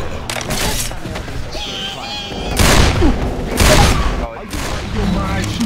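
Gunfire and heavy bursts from Left 4 Dead 2 co-op play, a dense fusillade with loud thumping booms swelling around the middle, mixed under ongoing voices and game chatter.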